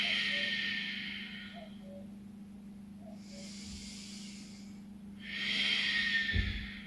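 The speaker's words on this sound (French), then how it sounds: "Inspire par le nez, expire par le nez, respiration Ujjayi" Ujjayi breathing through the nose, drawn in and out with a soft, throaty hiss in three slow cycles, close and steady over a constant low hum, during a beginner vinyasa yoga class.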